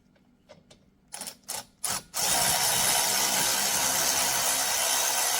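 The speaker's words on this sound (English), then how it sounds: "let's get that other slide bolt out." Slide bolt being removed from the brake caliper of a Ford Bronco Sport: a few short ratchet clicks, then a loud, steady mechanical whir that continues to the end, close by with no talking.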